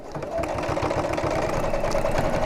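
A sewing machine set to a 2.8 stitch length runs around the top edge of a large tote bag, with a loud, steady, rapid mechanical rhythm close by throughout.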